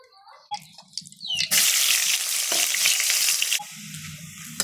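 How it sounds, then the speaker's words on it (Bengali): Potatoes frying in hot oil, a loud burst of sizzling that rises suddenly and holds for about two seconds before dropping back, with quieter clatter and faint voices around it. "একটু ভাজে নেব আমি।"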